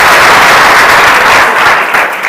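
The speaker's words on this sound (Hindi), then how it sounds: "तो सिद्धार्थ भैया के लिए एक बार जोरदार तालियां" Vigorous applause from an audience welcoming a student speaker, loud and close, a dense wash of clapping that holds steady for a couple of seconds and eases slightly at the end.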